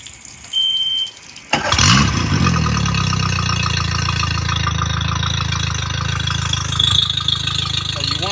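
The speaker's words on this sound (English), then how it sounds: "just turn your engine on and let it run for about 5 to 10 minutes" An inboard boat engine starts with a short beep and then idles close and steady, a low, even mid-pitched rumble that runs for the rest of the stretch while someone talks over it.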